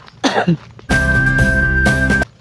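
A short cough, followed by a longer, harsh hacking sound nearby, with a brief pause between bursts.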